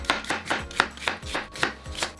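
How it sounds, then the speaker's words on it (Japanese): Onion sliced into thin julienne strips with a kitchen knife on a cutting board: about eight crisp, evenly spaced chops with low thuds, close and clear, with no voices. "玉ねぎは千切りです。"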